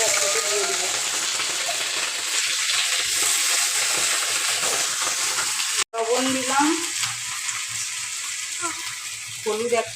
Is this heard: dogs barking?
no